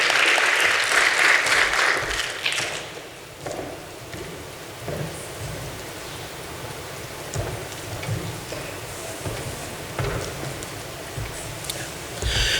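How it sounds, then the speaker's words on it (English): An audience applauds at a speech event as the speaker walks up to talk about revenue protection challenges: dense, steady clapping that fills the room, strongest at the start and then settling into a constant wash. "Let's give him a round of applause as he makes his way."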